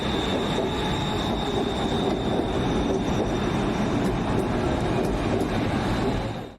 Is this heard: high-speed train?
yes